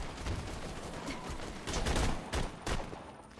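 Gunfire in Borderlands 2, an uneven run of shots over a busy game background that swells in a few clustered bursts, fairly close but not loud.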